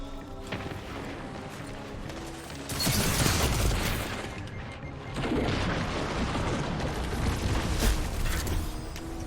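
A hand cannon being reloaded in the Destiny video game: clicking, ratcheting mechanical clatter with a couple of louder metallic surges, steady and close over a continuous game background.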